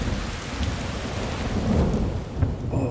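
Stormy weather in Skyrim: steady, dense rain hisses loudly and evenly, with a deep rumbling wash beneath it and no clear separate thunderclap.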